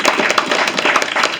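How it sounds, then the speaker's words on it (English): A small group claps for eight players after their weekend victories, a brief scattered round of hand claps close by. "So a round of applause for you guys."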